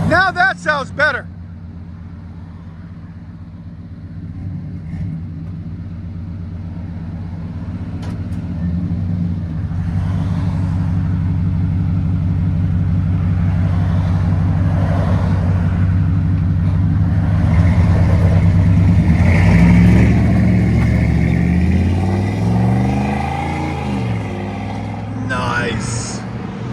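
Steady low burble from a 1994 Chevy 1500's 5.7L V8 through a Flowmaster 40 Series exhaust, idling near and building gradually toward a fuller rumble, with short bursts of talk at the start and end.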